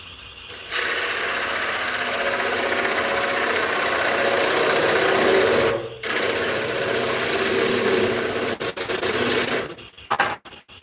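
Wood lathe spinning a cherry wood piece held by the tailstock while a bowl gouge cuts it, a steady close whirring hum with scraping texture, briefly pausing midway and stopping near the end.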